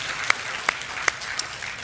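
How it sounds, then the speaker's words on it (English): A church congregation during a sermon gives a few scattered, sharp claps, about four distinct hand claps spaced out over a quiet room background. "Give God a big clap offering for that."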